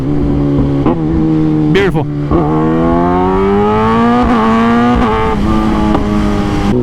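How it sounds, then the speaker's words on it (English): A motorcycle engine downshifts with sharp rev blips between gears, pitch stepping up and settling as the bike slows, loud and close throughout, with a brief spoken remark over it. "listen to the downshifts."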